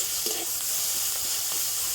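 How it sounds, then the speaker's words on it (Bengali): Chopped tomato with a pinch of salt frying in a pan, giving a steady, soft, close sizzle with faint crackles throughout and no voices. "টমেটোটা একটু ভেজে নিয়েছি আর টমেটোটা অনেকটাই নরম হয়ে গিয়েছে"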